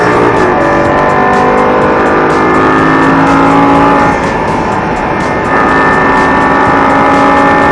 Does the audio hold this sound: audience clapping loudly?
no